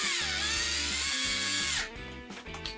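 An electric toy screwdriver drives a small screw, its motor whirring loud and steady up close with a buzzing gear tone before cutting out into a few short bursts.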